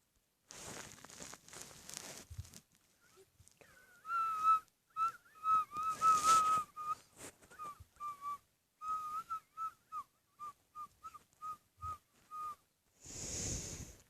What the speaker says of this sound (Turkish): Flüt gibi ıslık çalıyorum ya. Aslında sanki flüt çalıyorum.